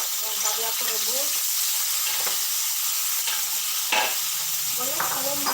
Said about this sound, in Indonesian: terpaksa aku harus goreng lagi ya yang tadi aku rebus.